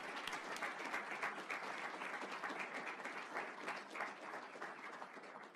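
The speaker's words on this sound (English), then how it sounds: "please join me in giving a round of applause to all our practitioners" An audience at a business law symposium applauds steadily, a dense patter of many hands clapping at an even level, fading slightly toward the end.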